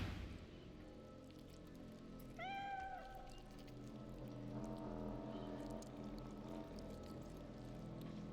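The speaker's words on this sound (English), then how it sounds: "The undead cat." An undead cat in the video game Divinity: Original Sin 2 gives a single drawn-out meow partway through, heard alone over a soft steady bed of rain-like ambience.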